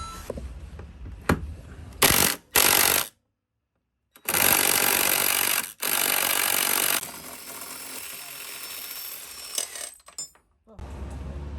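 A power drill whirs in short, loud bursts removing bus seat bolts, then runs longer and steadier nearby, broken by brief silences and a bit of background talk.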